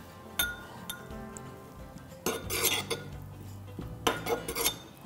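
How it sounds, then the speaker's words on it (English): Cilantro being stirred into rice in a pot in a home kitchen, heard as a string of clinking utensil strikes and scraping against the pot, irregular and fairly close, with no talk. "And then go ahead and add your cilantro. So it's flavor packed. Stir that in."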